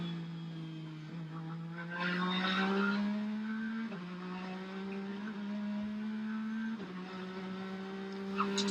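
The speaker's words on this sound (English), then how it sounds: "Talking about the different sound of this race car, Lee" A Porsche race car at the 2020 Rolex 24 at Daytona howls steadily at high revs, its engine pitch climbing and then dropping sharply at a few gear changes, loud and continuous with no voices.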